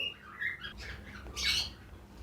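Healthy cockatiel breeder pair squawking, a couple of short, close harsh calls within a couple of seconds over a faint background.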